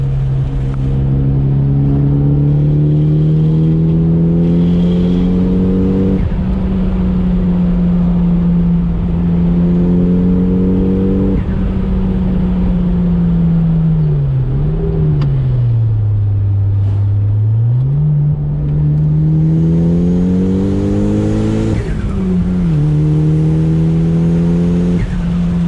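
A 1997 Mitsubishi Eclipse GSX engine revs and shifts through gears while driving, pitch climbing, dropping on each shift, then rising again, loud and close throughout.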